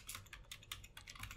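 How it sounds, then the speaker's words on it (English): Fast typing on a computer keyboard, a quick close run of crisp key clicks with no one talking. "Typing too fast."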